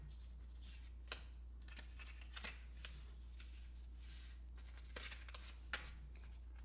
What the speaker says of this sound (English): Then flips up another card